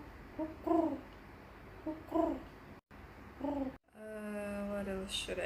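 A voice imitates a dove with three soft, separate cooing calls spaced about a second and a half apart, followed by a longer, steadier vocal tone.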